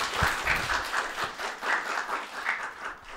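Audience applause at an Uzbek TV game show, a steady wash of clapping with rhythmic swells, fairly close and filling the short stretch without talk.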